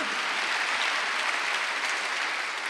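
A church congregation claps during a Wednesday worship service, a dense, steady wash of many hands that stays even and fairly loud for a few seconds with no talking over it.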